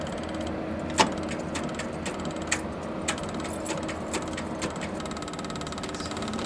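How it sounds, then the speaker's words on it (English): A fuel pump running during a cold start of equipment on a snowy day gives a steady mechanical whir. Faint clicks and ticks recur through it at a moderate level, with no talking. "Here's the fuel pump going."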